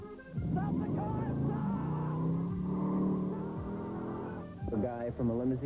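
Car engine from a 1990 movie trailer, a revving run under music and voices for several seconds, with talk heard over it.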